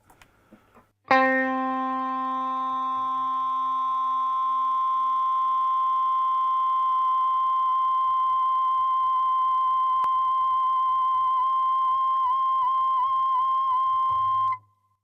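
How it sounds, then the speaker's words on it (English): A Stratocaster guitar note played through a harmonic-mode effect rings out as a sustained, bright tone rich in boosted overtones, starting abruptly after a few faint plucks and holding steady and loud for over ten seconds before cutting off. "It takes the note that you're playing and finds harmonics and boosts that"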